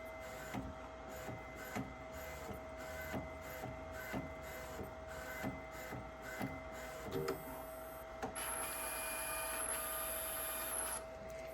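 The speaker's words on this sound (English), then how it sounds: "we're going to be able to see it printing" A Primera Eddie edible ink printer prints onto a cookie with a steady mechanical whir and regular soft clunks about once a second, then shifts to a louder, continuous high whine near the end.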